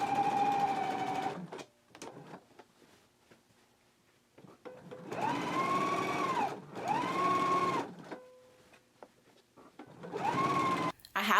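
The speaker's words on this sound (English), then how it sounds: "We're going to stitch these down as well as all the way around the upper edge." A sewing machine understitches and stitches down a waistband lining on a pair of shorts, running in several sustained whirring bursts of a few seconds each, separated by quiet pauses with small handling clicks.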